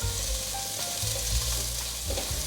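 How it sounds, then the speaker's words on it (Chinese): Vegan mushroom pieces stir-fried in a hot wok give a steady, close sizzle with scraping stir strokes on top, continuous for the whole stretch with no talking. "快速拌炒。"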